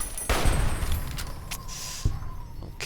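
Video game gunfire comes in a few short, sharp bursts and single shots, fairly close, with no talking.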